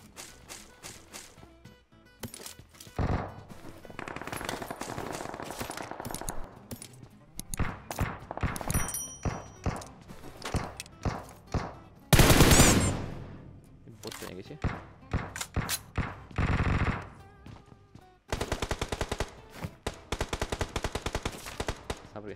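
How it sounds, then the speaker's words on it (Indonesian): Gunfire from PUBG Mobile, including a shotgun, comes as repeated loud sharp blasts and rapid bursts, some spaced and some clustered, with game sounds and a voice talking in between. "Terus nyatu gue pakai shotgunnya tuh. Bunyinya mantap kali."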